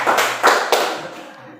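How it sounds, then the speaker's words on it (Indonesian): A few hand claps ring out in a classroom, three sharp close bursts in quick succession before fading, with no talk over them. "Berikan aplaus buat Darman dulu."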